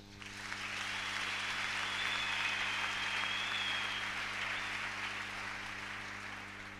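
Church congregation applauding in worship, a steady sustained wash of clapping that swells and fades, fairly faint and distant, with a faint high tone running through it.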